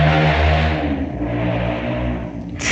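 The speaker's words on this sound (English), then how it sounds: "There's a motorbike who passed." A motorbike engine passes nearby, a loud, throaty revving drone that swells and slowly fades, ending with a brief sharp clatter.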